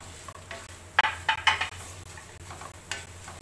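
Fried onions and ground whole spices being stirred and fried in a pot for beef nihari, with soft sizzling under a few sharp scraping clatters of the spoon against the metal.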